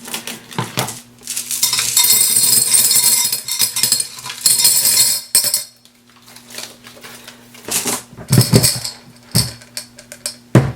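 Small glass gems clatter and clink loudly as they pour into a container in a long continuous cascade, then come several shorter rattling bursts.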